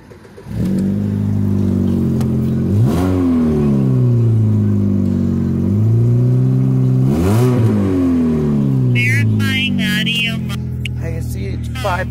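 A Pontiac Sunfire GT's engine cranks and catches, then settles into a steady idle broken by two sharp revs that rise and fall, with a brief clattering burst near the end.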